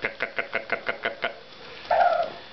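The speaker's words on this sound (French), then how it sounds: "Qu'est-ce que ça fait une poule?" A black hen clucks in a quick rhythmic series of about eight short notes, then gives a longer drawn-out squawk, fairly faint and close.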